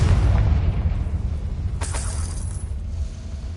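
A Confringo fire spell explodes in Hogwarts Legacy with a deep, booming blast that rumbles and fades, followed by a brief crackling burst of debris, close and loud with no talk.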